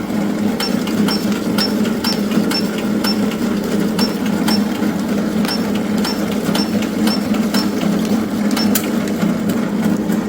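MY-380 F date coding machine printing dates onto a stack of boxes, a steady mechanical hum with regular rapid clicks from the printing head repeating throughout, close and fairly loud.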